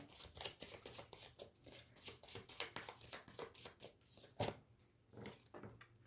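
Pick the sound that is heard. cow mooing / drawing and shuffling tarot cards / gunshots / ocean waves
drawing and shuffling tarot cards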